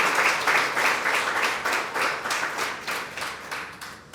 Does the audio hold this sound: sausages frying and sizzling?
no